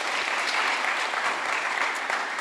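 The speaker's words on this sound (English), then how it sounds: "Round of applause." An audience at a student welcome event claps steadily in a dense, even burst of applause that holds at the same level throughout.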